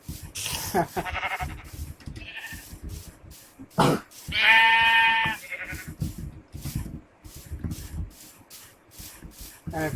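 Minecraft sheep bleat several times, one long wavering bleat standing out, over a choppy background of rubbing and scraping noises.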